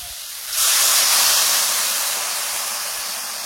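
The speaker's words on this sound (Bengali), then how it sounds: "এবারে আমি জল দিয়ে দিচ্ছি।" Water splashes into a hot pan holding lightly seared elephant apple and erupts into a loud, broad sizzle that starts suddenly and then slowly fades while still hissing.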